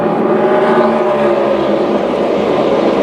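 Loud NASCAR Cup Series race car engines roar continuously at high revs, hitting their rev limiters, a dense, buzzing mechanical drone with no pauses.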